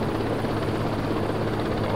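A Bell JetRanger helicopter flies in the X-Plane 10 flight simulator, its rotor and turbine making a loud, steady, close drone that runs unbroken throughout, with no talking.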